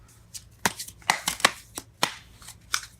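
Tarot cards are shuffled and riffled in several quick, crisp bursts at close range, with short pauses between them and no talking.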